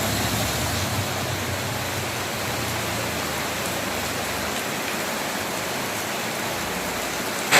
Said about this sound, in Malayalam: അല്പം നോമ്പ് തുറന്നതിന് ശേഷം വീണ്ടും മഴ തുടങ്ങി.